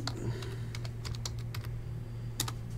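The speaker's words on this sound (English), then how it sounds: "Let me type that in." Quick bursts of keystrokes on a computer keyboard, close and fairly quiet, with irregular clicks over a low steady hum in a room during a baseball card box break.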